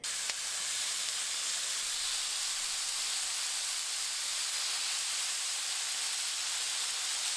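Carne asada beef searing in a pan over a medium-high burner, giving a steady, even sizzle and hiss that holds at the same level throughout with no talking.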